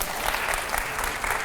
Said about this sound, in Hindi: जोरदार ताली हो जाए पहले।